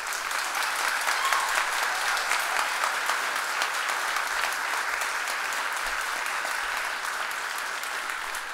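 An audience at a cancer center naming event breaks into sustained, even applause, many hands clapping steadily throughout with no voices standing out.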